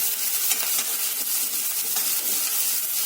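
Okra, onions and chilies fry in a pan for a sour tamarind brinjal stew, giving a steady, close hiss with faint crackle and no talk.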